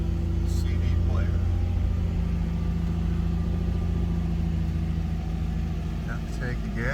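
A 2008 Nissan 350Z Touring Coupe with a Nismo exhaust idles steadily, a low, even rumble with a faint rise in pitch, while a person talks over it.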